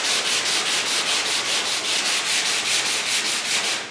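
Rhythmic back-and-forth rasping of a 180-grit sanding block on a Mach 1 Mustang body panel along the body line, loud and close, with even strokes of about four per second and no voices.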